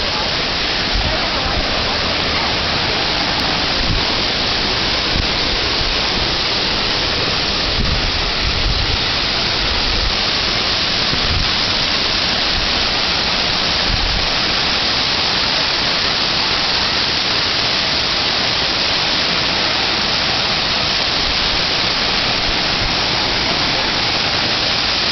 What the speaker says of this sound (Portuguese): Essa é a primeira cachoeira.